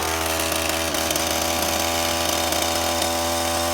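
Ryobi 18-inch gas chainsaw engine running just after starting with the choke in use, a loud, close, continuous buzzing drone holding steady throughout, alone with no voices.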